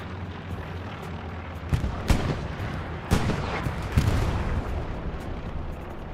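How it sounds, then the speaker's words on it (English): A battle in the war game Hell Let Loose on Utah Beach, with a rumbling backdrop of artillery and scattered sharp gunshot cracks that land every second or so, moderately loud. "These gun battles right here might determine whether this game goes another 30 or potentially might end"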